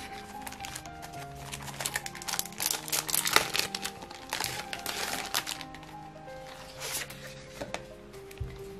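Sheets of newspaper-style stationery paper are handled, giving a steady run of soft crinkles, rustles and crackling snaps, close up and with no one talking.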